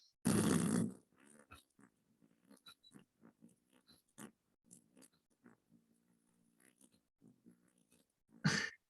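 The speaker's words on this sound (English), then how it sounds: "That's called circular breathing, and that's how you play didgeridoo." Didgeridoo player demonstrating circular breathing: a sharp loud intake through the nose, then a long run of soft snorting, puffing breaths through lips and nose, ending with another strong inhalation, close and alone.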